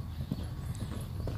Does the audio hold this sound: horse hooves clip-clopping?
yes